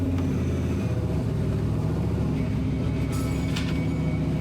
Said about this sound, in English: Now Luke's car's just come to a halt.